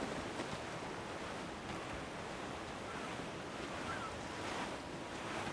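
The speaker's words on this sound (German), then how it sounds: "Es weht ein steifer Wind" Steady wind at sea heard while sailing a schooner in a video game, a continuous rushing hiss with wash of waves, even and moderately loud throughout, no voices.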